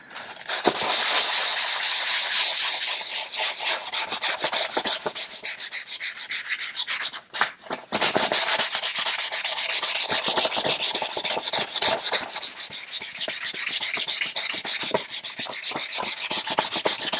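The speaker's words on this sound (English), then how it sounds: "I'm just going to sand this down quickly to, this is 240 grit, so just try and give it a sand, smooth off the top" A wooden guitar kit body is rubbed with 240 grit sandpaper in fast, continuous back-and-forth strokes, loud and close, with one short pause near the middle.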